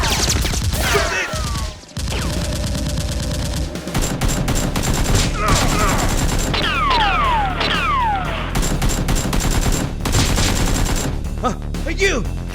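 Toy Nerf guns fire repeatedly in a loud, busy mock battle, with rapid popping shots and whirring bursts, and shouting voices mixed in throughout.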